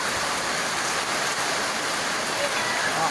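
Heavy rain pours in a steady, dense hiss that fills the whole stretch without a break, close and fairly loud, with no voices standing out.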